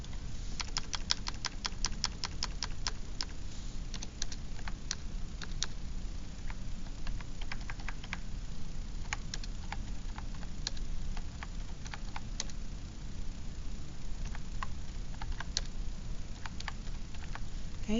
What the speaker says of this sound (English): I'm going to type in the calculator